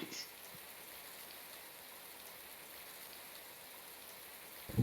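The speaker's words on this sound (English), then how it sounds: "It's raining just as I thought!" Steady, soft rainfall patters evenly throughout a scene in the visual novel Flyable Heart, a gentle continuous hiss with faint drops, alone without talk.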